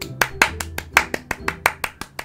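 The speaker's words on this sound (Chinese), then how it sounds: "先来个掌声鼓励。" Hand clapping from one person, about a dozen sharp claps in an uneven rhythm, close and fairly loud, over faint background noise.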